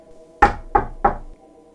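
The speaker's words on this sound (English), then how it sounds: "I arrived at the man's house and knocked on his door" Three firm knocks on a house door, evenly spaced and close, ringing briefly against an otherwise quiet background.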